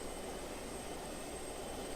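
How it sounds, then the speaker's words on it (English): A jet aircraft engine in Just Cause 2 gives a steady, even roar with a faint high whine, sitting at a moderate distance and unbroken throughout. "Once again, this jet is expendable."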